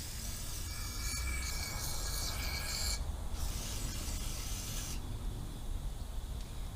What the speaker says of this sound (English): let's go ahead and spray the bowl out a little bit here